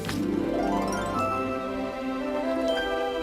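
A frog croak used as a story sound effect: one near, resonant, warbling croak that rises and falls in pitch and fills the short moment on its own.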